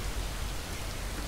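Steady rain hisses in a video game setting, a dense, even wash of drops with no voices over it.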